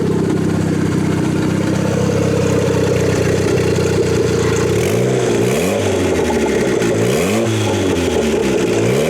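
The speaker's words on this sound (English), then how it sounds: "We got some turbo noises going on." Turbocharged Honda Integra engine idling, then revving repeatedly in rising and falling sweeps with turbo whoosh, loud and close.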